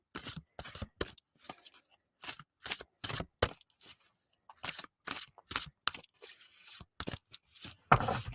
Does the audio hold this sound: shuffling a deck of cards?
yes